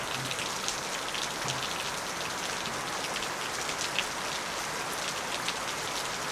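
Steady rain falls during a trip in rural Welikanda, Polonnaruwa, Sri Lanka, a dense, even hiss of drops on surfaces with no voices, holding constant from start to end.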